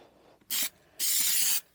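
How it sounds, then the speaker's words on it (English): 3M adhesive sprayed from an aerosol can while fitting new carpets in a Jaguar XJC: two close hissing bursts, a short one followed by a longer one, with quiet pauses between. "we'll spray the 3M adhesive"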